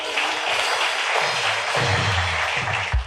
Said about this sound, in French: on applaudit le Seigneur